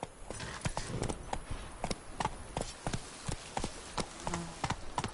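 A horse's hooves clip-clop briskly at a steady trot in The Witcher video game, a rapid, even rhythm of close hoof strikes with faint ambient background and no voices.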